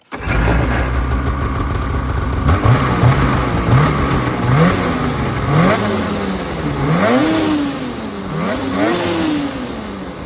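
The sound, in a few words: Polaris Matryx 850 snowmobile stock exhaust revving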